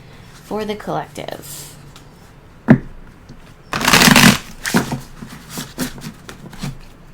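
Tarot cards being shuffled in several quick riffling bursts, with a sharp tap partway through; the crisp papery flutter sits close and moderately loud.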